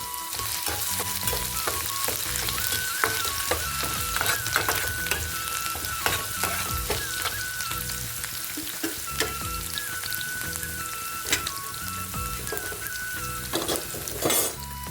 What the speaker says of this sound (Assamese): এইখিনি অকণমান ভাজি লওঁ